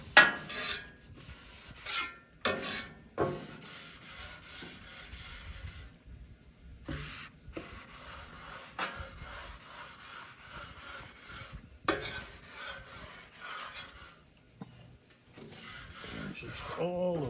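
A rag rubs oil over the steel surface of a Blackstone griddle after a Philly steak cook, making close, irregular raspy scrubbing strokes with brief pauses between passes.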